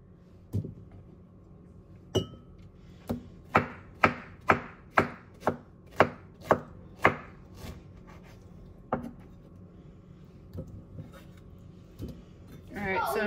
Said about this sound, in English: I'm just going to cut up these outside pieces for the children